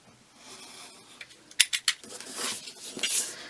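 Scissors or a blade snip and slice through paper while a folded journal pull-out is made, a few sharp close cuts followed by rustling paper handling.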